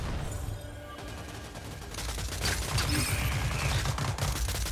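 In the PS4 game Rogue Company, rapid bursts of gunfire from several shooters crackle over a dense background of game noise, loud and continuous, with the rattling strongest in the second half.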